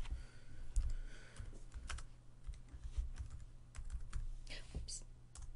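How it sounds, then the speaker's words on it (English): Typing on a computer keyboard, a quiet, irregular run of close key taps and clicks with faint speech nearby. "I typed in someone's name."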